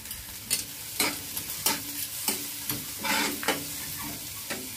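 Lightly browned onion frying in a pan with chopped green chilli, a constant hiss punctuated by repeated sharp stirring scrapes and clacks, close and alone.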